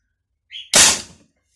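A brief mechanical click, then one sharp gunshot from a suppressed 12 mm pistol with a soft, quickly fading report, close and alone.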